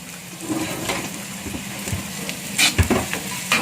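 Steady sizzling and crackling of garlic frying in hot oil in a wok, with a few scraping clatters of a utensil stirring in the pan.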